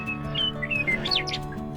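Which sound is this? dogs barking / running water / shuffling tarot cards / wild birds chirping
wild birds chirping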